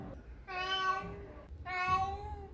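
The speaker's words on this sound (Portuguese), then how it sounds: "Então ele fica miando," A 14-year-old Persian cat gives two long, drawn-out meows close by, each about a second, separated by a short pause, clear and alone without talking.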